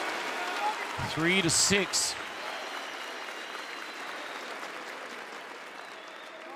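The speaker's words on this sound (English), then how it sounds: "still the golf clap polite" Polite golf clap from an esports crowd at a Counter-Strike tournament match, a thin, even patter of scattered clapping underneath, while a commentator briefly speaks over it early on.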